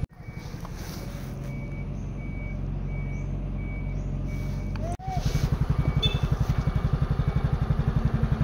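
Trucks meet on a farm road, their engines rumbling steadily and close while a truck's reversing alarm beeps repeatedly, and a brief brake hiss comes in midway before a heavier diesel throb takes over.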